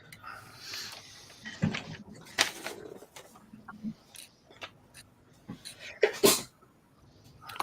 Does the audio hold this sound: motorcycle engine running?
no